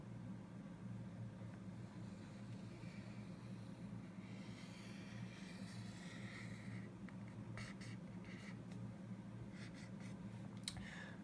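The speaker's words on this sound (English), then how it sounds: "I'm just going to connect the dots and draw my parabola." A pen scratches across paper while a parabola is drawn on a graph, with faint strokes rising over a steady low hum and then a few short, sharper scratches near the end. The sound is quiet and close, and no one speaks.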